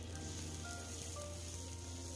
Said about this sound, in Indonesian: Selanjutnya daun bawang yang sudah dipotong-potong langsung saja ditumis sampai harum.